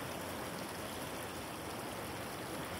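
Floodwater rushes steadily through a half-flooded fallow field during a storm, a continuous broadband hiss and gush like a stream or small waterfall, fairly faint and unbroken, with no voices.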